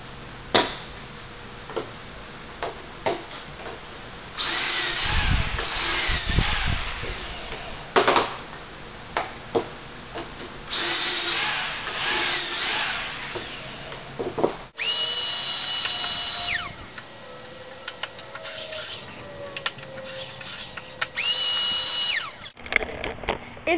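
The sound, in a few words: power drill drilling holes in 2x4 wooden troughs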